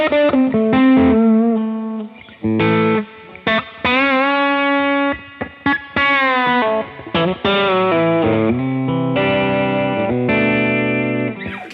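Electric guitar with Telecaster-style pickups played through an Eventide H9 running the Sculpt distortion effect: loud, harmonically rich distorted notes and chords in short phrases, with slides and sustained tones separated by brief gaps.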